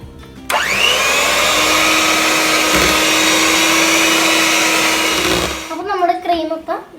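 Electric mixer whipping cream with vanilla essence for a biscuit pudding, a loud steady motor whir that starts sharply and runs for about five seconds, then stops as a voice speaks.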